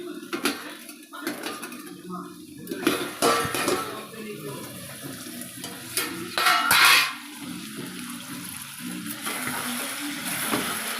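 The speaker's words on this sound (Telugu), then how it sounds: "నెక్స్ట్ మసాలా మటన్ ఒకసారి కలుపుకుందాం" A metal spoon scrapes and clanks against a pan while masala mutton fry is stirred, giving irregular bursts of loud, close metallic knocks and scraping, with someone talking in between.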